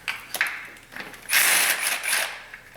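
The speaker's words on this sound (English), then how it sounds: "So we'll torque that back down to factory spec." A ratchet wrench tightens a valve cover bolt on a 2005 Pontiac Vibe 1.8, giving close, loud rapid clicking of the pawl in several short bursts, with a longer run of clicks near the end.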